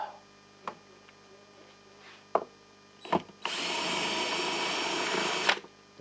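A power drill driving long screws runs as one loud, steady whine for about two seconds, set after a few sharp knocks and clicks in an otherwise quiet room.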